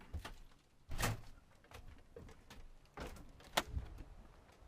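The back door of a snowcat vehicle is handled nearby, with a few heavy clunks and rattles at irregular intervals, no one speaking.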